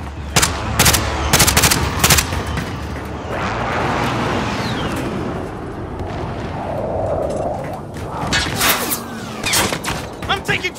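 Rapid bursts of gunfire from the video game Call of Duty: Modern Warfare crack out loudly and repeatedly over a dense battlefield din, with voices talking underneath.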